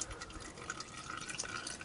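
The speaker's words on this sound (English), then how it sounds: "just pour the old oil into the drain pan" Old motor oil from a Chevrolet Suburban oil change drips and trickles from a removed oil filter into a drain pan, a soft, steady patter of liquid with no talking.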